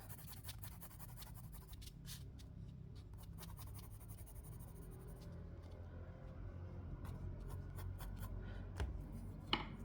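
A pencil drawn very lightly across paper while sketching a dolphin, a faint, continuous close scratching and rubbing with short strokes throughout, quiet and alone.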